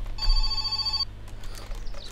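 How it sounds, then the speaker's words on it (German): A telephone rings in the video game My Summer Car, a bright electronic bell tone sounding in one sustained burst of about a second, followed by quieter game ambience. "Ich gehe noch mal eben zum Telefon,"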